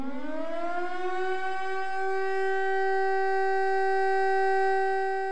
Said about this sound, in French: les sirènes de la ville vont de nouveau retentir pour annoncer la fin de l'alerte